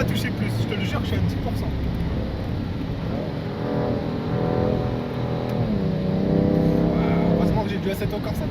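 A car engine on the rain-soaked Nürburgring under light throttle, its steady drone swelling with rising harmonics in the latter half, with muffled voices faintly mixed in.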